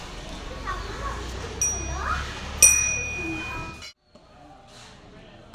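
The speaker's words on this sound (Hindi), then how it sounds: "घंटी बजा" A temple bell rings at a Gorakhnath shrine, giving two bright metallic dings that hang and ring out, amid a busy background of people and children talking.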